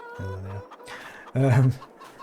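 Chickens in the barn of the farming game Farming Simulator 22 give two short, close clucks separated by a brief pause, with no talk over them.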